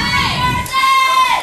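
A wrestling crowd cheers loudly for the Jersey Devil in an arena, a dense sustained roar of shouting voices with a shrill whistle-like tone running through it.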